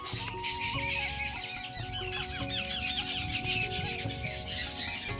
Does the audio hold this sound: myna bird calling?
yes